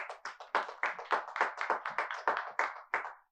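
Church congregation clapping in a quick, even rhythm, a run of distinct claps about four per second, fairly soft and without talk.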